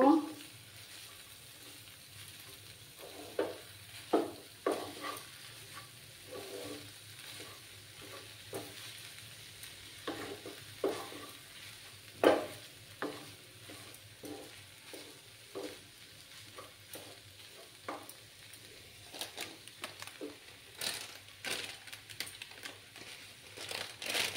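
Garam masala worked into a frying soybean mixture for vegetarian soybean chops, a faint low sizzle punctuated by many irregular scrapes and taps of a spatula against the pan over a long stretch.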